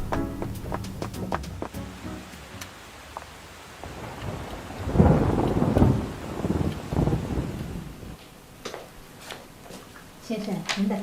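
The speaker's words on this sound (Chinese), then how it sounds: "啊，下雨了！" Rain falls with a heavy roll of thunder that builds in the middle and fades away, over a steady wet hiss and scattered sharp knocks; brief voices come in near the end.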